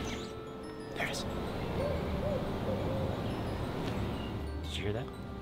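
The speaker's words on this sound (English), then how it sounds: "we just heard a barred owl hooting" Barred owl hooting in a wooded park near a big sycamore, a soft, distant series of low hoots in a still outdoor setting, with faint rustling and people nearby.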